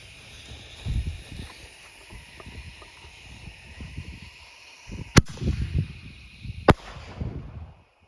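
Phantom brand mini mortar fireworks burst outdoors, giving two sharp cracks a second or so apart over crackling, hissing sparkle and low rumbling background noise.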